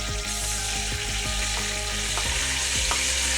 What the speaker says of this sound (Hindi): अब हमारा जो है वो अदरक और लहसुन का पेस्ट जो है वो फ्राई हो रहा है।